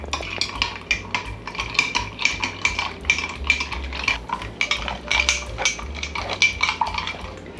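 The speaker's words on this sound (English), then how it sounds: "Add a little bit of ice. And then give it a good stir." A bar spoon stirs a bourbon Old Fashioned over ice in a glass, with steady rhythmic clinking and rattling of cubes against the glass, close and clear, without any talking.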